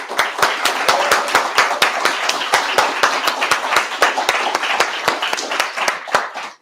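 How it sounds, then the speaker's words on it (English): Audience at a coding bootcamp graduation showcase clapping for a presenting team; sharp, close individual claps ring out over a lively, even patter of applause that holds for several seconds. "Another round of applause,"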